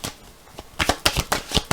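Tarot cards are drawn and laid from a deck in a few quick, close papery flicks and slaps, spaced unevenly over a brief moment.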